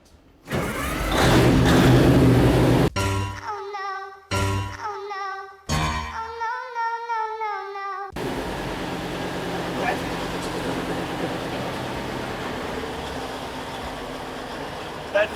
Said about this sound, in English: That's a massive V10.